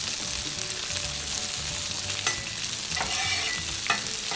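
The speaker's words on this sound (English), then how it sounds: "Now I'm going to go ahead and saute some green onions. Throw some oil on the griddle," Green onions sizzle steadily in oil on a hot griddle, a soft continuous frying crackle with occasional faint scraping of a utensil, no talk.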